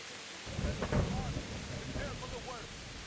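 Thunder from a lightning strike during heavy rain in Kingdom Come Deliverance, a low rumbling boom rising around the first second over steady rainfall, with faint voices chirping in the background.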